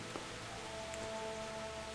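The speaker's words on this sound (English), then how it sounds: "And of course it's raining during the day" Rain falls steadily in the medieval world of Kingdom Come: Deliverance, a faint, even patter with a few soft drops standing out over a low ambient hum.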